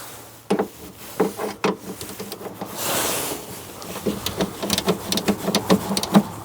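Bolts being tightened by hand on a car's shock absorber and anti-roll bar link, with a series of close, sharp metallic clicks and ratcheting taps in uneven bursts and a brief rustle in the middle.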